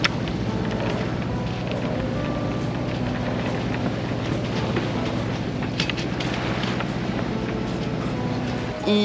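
A sailboat motoring under its engine, giving a steady, continuous low drone with a constant mechanical hum and faint wind and water wash that runs unbroken throughout.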